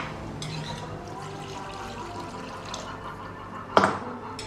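Water is poured into a potato and cauliflower curry in a pan, with soft liquid sounds building to a short, sharp splash near the end and no talking.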